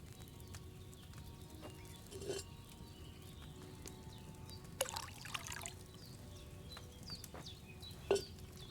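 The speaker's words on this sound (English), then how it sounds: "So, what did you pour in there? Wine, of course." Wine is poured from a pitcher into a cauldron in the video game Kingdom Come: Deliverance 2, a faint trickling pour with a few brief splashes and clinks over quiet ambience, with no talking.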